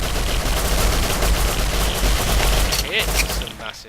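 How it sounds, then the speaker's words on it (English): Distant gunfire from a clan war in the survival game Rust: a dense, continuous crackle of many overlapping shots rolling on steadily, muffled by distance, tapering near the end. "It's some massive firing going on there. I think someone's having a big clan war over there"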